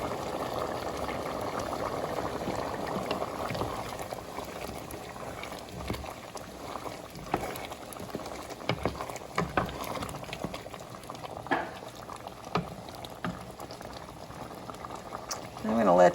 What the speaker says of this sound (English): I'm going to let that boil for about 10 minutes, 7 to 10 minutes.